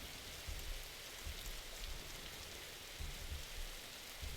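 Steady rain pours in the video game 99 Nights in the Forest, a dense even hiss with soft low rumbles of distant thunder surfacing now and then; no voices are heard.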